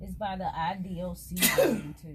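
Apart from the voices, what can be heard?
sneeze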